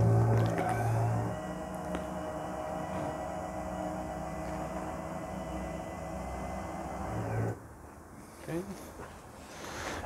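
Electric motor mover drives a Knaus Sudwind caravan, giving a steady whirring, droning hum for several seconds before it stops abruptly, followed by faint clicks and movement noises.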